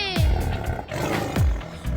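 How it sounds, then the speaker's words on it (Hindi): A deep lion roar sounds twice in quick succession, each a swelling growl that drops in pitch, set against children's song background music. "जंगल का राजा शेर दहाड़े,"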